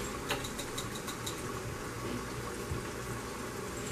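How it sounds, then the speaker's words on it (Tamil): Water being poured into a pot of Dum-style mutton biryani gravy, a soft, steady liquid rush and gurgle at close range with no talking. "இப்போ நம்ம பாத்திரம் தண்ணி ஊற்றிக்கலாம்."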